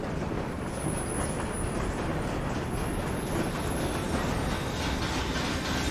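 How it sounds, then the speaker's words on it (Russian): Train wagon being uncoupled and rolling along rails in the video game Little Nightmares 2, a steady dense rumble of wheels on track with faint high squeals, continuous and close throughout. "Отстегиваем вагон к чертовой бабушке"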